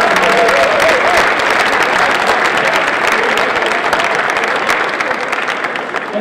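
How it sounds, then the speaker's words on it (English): Loud, dense audience applause fills a hall at an annual awards ceremony, steady clapping from a large crowd sustained throughout without letting up. "Please join me in a big round of applause for those individuals who helped out today."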